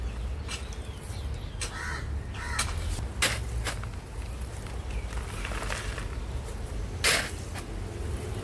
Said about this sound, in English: You will hear a crow in the background.